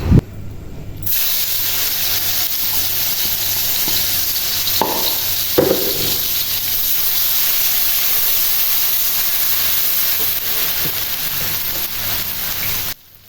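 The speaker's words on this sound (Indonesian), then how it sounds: "ikan asinnya mau aku goreng dulu, tapi nggak digoreng kering ya, cuma setengah matang aja" Steady, loud sizzling of salted fish frying in hot oil in a pan, a continuous crackling hiss with a couple of brief clatters partway through.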